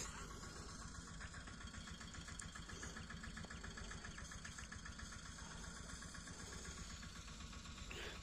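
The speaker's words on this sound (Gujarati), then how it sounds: "ને આ સાઈડ જો ટ્રેક્ટર લઈ અને વાવેતર પણ ચાલુ છે." A tractor engine runs steadily while a field is sown, a continuous mid-to-low rumble with a regular pulsing beat that holds at an even, moderate distance throughout.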